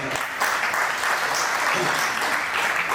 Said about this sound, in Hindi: एक बार आप सभी लोगों के लिए बिग अप्लॉज, जोरदार तालियां।